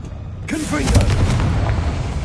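A fiery Confringo spell blasts in Hogwarts Legacy, a sudden booming burst after a short quiet moment, followed by a rumbling, crackling tail, with a voice briefly heard.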